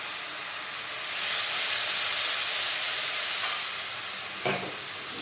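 Turmeric and asafoetida hit hot oil in a pan, giving a steady broad sizzle and hiss that swells after a second and holds, with a small clink near the end and no talk.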